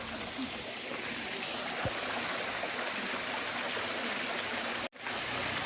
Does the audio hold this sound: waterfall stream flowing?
yes